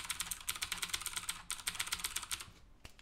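Rapid, steady clatter of keys and mouse buttons pressed on a computer keyboard setup while playing Katana Zero, a dense run of near, crisp clicks for about two and a half seconds, then a single last tap.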